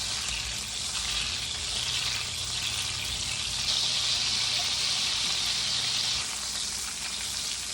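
Butter browns in a pan with sage leaves to be added, giving a loud, dense, continuous hiss and crackle that holds steady for the whole stretch, with no voices.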